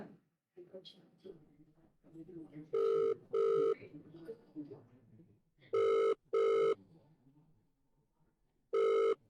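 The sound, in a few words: telephone ringing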